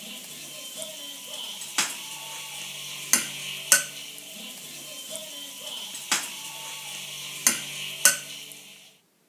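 Vetkoek dough frying in a pan gives a steady soft sizzle, broken by several sharp clinks and scrapes as the pieces are turned, ending in sudden silence.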